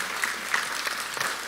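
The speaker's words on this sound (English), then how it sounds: "I want to ask we give her a round of applause" Audience applause at a peace summit think tank session: a short burst of steady, dense clapping from a crowd in a hall.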